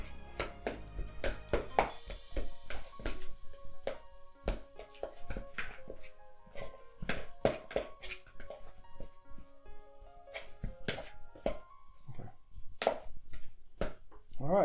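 Softened butter is worked by hand in a bowl, giving irregular close thumps and taps that continue steadily throughout, with some talking layered over them.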